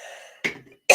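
Two short, sharp coughs ring out close by, about half a second apart, following a brief faint tone.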